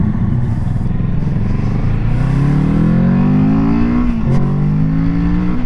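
A Kawasaki Z650 motorcycle engine accelerates hard, a loud, close, steady roar rising in pitch through the gears, with a brief dip at a shift before it climbs again.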